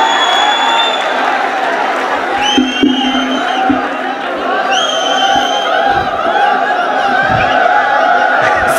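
An audience at a Hindi poetry recital hoots, whoops and cheers continuously, a dense crowd roar with scattered shouts and some clapping throughout.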